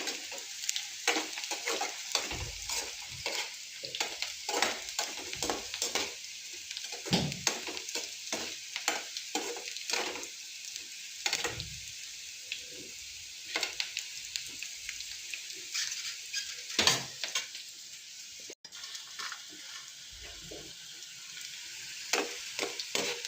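Bitter gourd frying in a little oil for a spicy fry, a steady close sizzle broken by repeated scraping strokes of a stirring spoon against the pan, with no talk.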